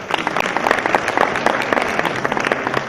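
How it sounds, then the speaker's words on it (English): Applause from an audience at the closing ceremony of a 2022 Botswana business forum, a dense steady patter of many hands clapping at close range for about three seconds. "So we want to applaud you, Dr. Pando."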